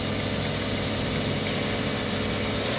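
Spindle of a 2018 Kitamura Mycenter 4XiD machining center running up from 1,000 RPM, a steady mechanical hum with a high whine that brightens near the end.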